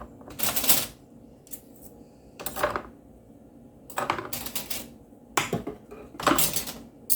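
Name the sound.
knives and cutlery being put away in a drawer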